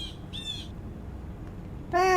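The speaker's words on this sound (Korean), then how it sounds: "새 소리지 저거?" A bird calls in a school-themed anomaly-hunting video game, two short caws followed after a pause by a louder, harsher caw, close and clear over a quiet background.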